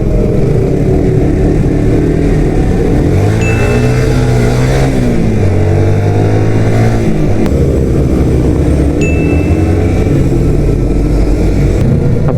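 A 2015 Yamaha FZ150i rides along the road, its engine droning loudly and steadily, with rising and falling revs through gear changes under constant wind rush, heard from the rider's seat.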